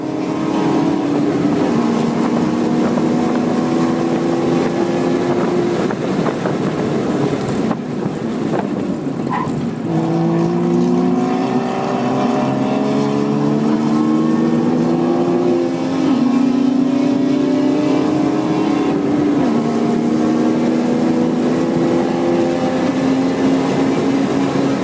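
A race car driven hard around Eagles Canyon Raceway, engine droning loud and steady with rising and falling harmonics through gear changes, heavy wind buffeting throughout, no voices.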